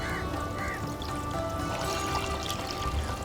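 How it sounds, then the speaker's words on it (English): About a liter of water pours into a hot wok with onions while cooking pulao, giving a steady, loud, close rushing and hissing wash throughout. "We'll add around a liter of water for now."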